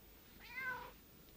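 A cat gives a single short meow, faint and somewhat distant, over quiet room tone.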